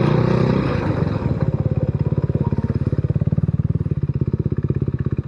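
A motorcycle engine idles with a rapid, even chugging pulse, close and loud after a brief rev at the start, no voices.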